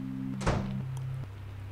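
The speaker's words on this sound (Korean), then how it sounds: "누군가 문을 거칠게 두드렸다." A rough, heavy knock lands on a door as a single loud thud with a short ringing tail, set over a low steady hum in a horror radio drama.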